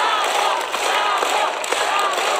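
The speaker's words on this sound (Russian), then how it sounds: "Стоя, жюри хлопает." A jury gives a standing ovation, with dense applause and cheering from a crowd that holds steady and loud throughout, without any clear speech.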